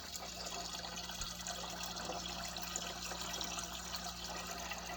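A water pump pushes a solid 20mm stream of water, giving a steady, continuous rushing and splashing flow at moderate level with no pauses for the full duration.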